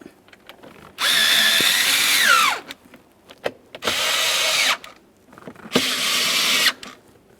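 Three whirring bursts of a power drill run screws into a Nissan Maxima HVAC blower motor assembly, each lasting about a second. The first run slows as the screw snugs down, and small clicks fall between the bursts.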